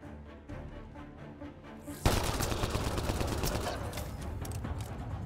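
Weapon fire in the video game Mass Effect Andromeda: after quiet clicks and tones, a sudden loud burst of rapid gunfire breaks in and keeps rattling steadily to the end.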